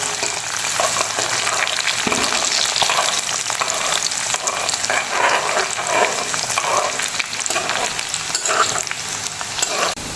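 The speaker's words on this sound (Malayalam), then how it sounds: "ഇതിലൊന്ന് ഇളക്കി കൊടുക്കുക." Fish curry being stirred in a hot pan, a dense continuous sizzle and frying hiss with scraping stir strokes, loud and close with no talking.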